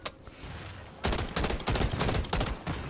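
Gunfire from a gun in the Modern Warfare 3 video game: faint shots early on, then loud dense bursts of rapid fire from about one second onward, close and continuous with brief gaps.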